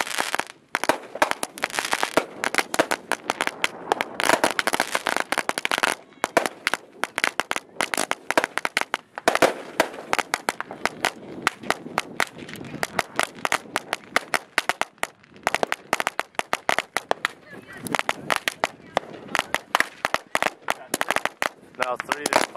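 Fourth of July fireworks from 2013 pop and crackle in rapid, dense bursts throughout, sharp reports following one another almost continuously at fairly close range.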